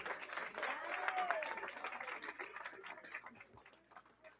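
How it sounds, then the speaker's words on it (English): A crowd at a school board of education meeting applauds the coaches, a faint, distant, steady patter of clapping with a few murmuring voices that fades toward the end. "let's have a round of applause for all of our coaches who came out tonight"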